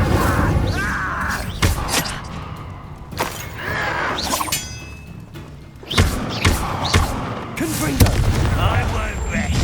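Incendio fire spell cast in the Hogwarts Legacy video game, a series of loud bursts and crackling impacts among thuds and shattering hits in combat, with a voice speaking between them.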